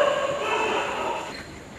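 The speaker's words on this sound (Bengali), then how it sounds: "স্টেশনটা দেখুন, ট্রেন হাজির।" A Mumbai local train pulls into a station, its steady broadband rumble and rail noise holding level before easing slightly as it slows, heard fairly close with no talk.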